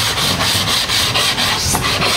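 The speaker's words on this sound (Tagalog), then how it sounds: "kailangan pasadahan natin siya ng liha." Sandpaper rubbed by hand along the trimmed edge of PVC edge banding on a board, a close, loud, rhythmic scratching in quick repeated strokes.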